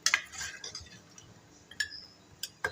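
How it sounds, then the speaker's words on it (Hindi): Bones are stirred into masala in a cooking pot for haddi guddi ka salan, and a utensil scrapes and clinks against the metal. Several sharp, scattered clinks stand out over quiet background, loudest at the start and again near the end. "ये जितनी भी हड्डी गुड्डी थी ये मैं इसमें शामिल कर दूँगी, मिक्स करूँगी"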